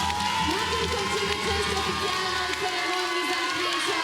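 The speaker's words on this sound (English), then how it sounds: "rapturous applause for the Belgians" A volleyball crowd applauds and cheers the Belgian team after their win, a steady roar of clapping and shouts with an announcer talking over it.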